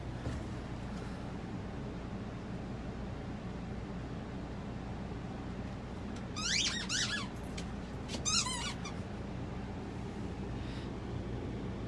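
A dog works a squeaky toy indoors, two short bursts of rapid, high-pitched squeaks over a steady background hiss, with quiet stretches between.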